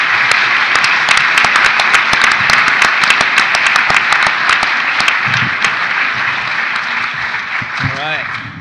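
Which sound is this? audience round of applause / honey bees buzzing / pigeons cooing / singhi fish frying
audience round of applause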